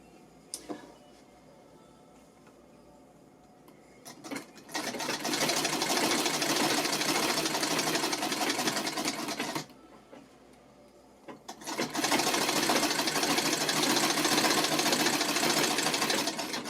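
Treadle Singer sewing machine stitching quilt squares for a circular quilted rug, two long runs of loud, steady, rapid mechanical chatter separated by quiet pauses with faint clicks, no talking.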